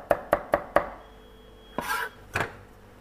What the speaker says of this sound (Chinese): 生姜我们切成末，大蒜子我们把它剁成末